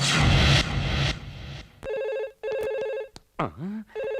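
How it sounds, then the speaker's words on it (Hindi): A telephone rings in repeated electronic trilling bursts, with short gaps and a sweeping chirp between rings, following a brief moment of noise. "किसका फोन हो सकता है?"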